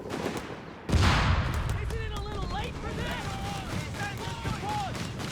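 Flak 30 anti-aircraft gunfire and explosions in the Company of Heroes 3 strategy game: a sudden loud blast of gunfire, then continuous rumbling battle noise while someone talks over it.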